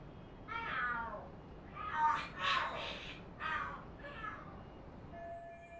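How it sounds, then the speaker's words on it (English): Cats fighting and screaming in the video game Lost Judgment: several drawn-out, wavering yowls and caterwauls in quick succession, moderately loud over a steady background hum. "The hell are there cats fighting?"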